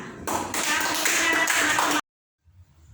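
A classroom of children clapping for a group of pupils after their report, a dense burst of applause lasting about two seconds and stopping abruptly, followed by near silence.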